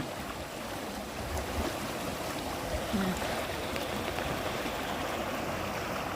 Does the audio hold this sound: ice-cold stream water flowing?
yes